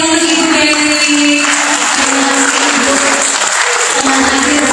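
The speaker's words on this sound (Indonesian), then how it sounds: "kita berikan tepuk tangan yang meriah untuk Ibu Dewi." Loud, steady audience applause at a job fair talk show in Magelang, a continuous crowd of clapping with sustained electronic tones or music running underneath.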